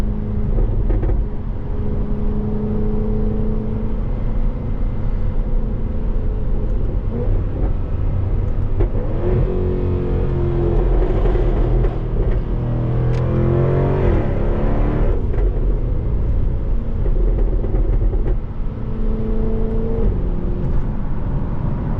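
A stock 2016 Jaguar F-Type R AWD drives under load, its engine note rising and falling through revs and gear changes, loud and close from inside the cabin, with steady road roar beneath.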